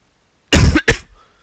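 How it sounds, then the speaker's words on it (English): Two harsh coughs in quick succession from a man, close and loud, followed by silence. "I'm coughing right now really bad."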